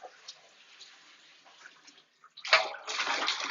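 Water runs and sloshes through a motorcycle gas tank being rinsed, a soft trickle first, then a brief pause and a louder steady gush, close with no talking.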